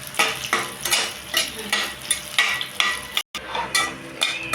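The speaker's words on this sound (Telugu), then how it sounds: "దీంట్లో కొంచెం నూనె వేసేసుకొని ఉల్లిపాయ ముక్కలు వేయించేస్తాను" Onion pieces fry in a little oil while being stirred, a steady sizzle broken by regular scraping strokes of a utensil against the pan, close and clear.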